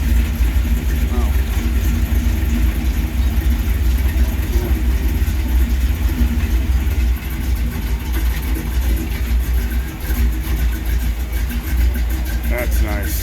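Classic flatbed truck with a big 4-inch exhaust idling nearby, a steady low rumble running throughout while people talk over it.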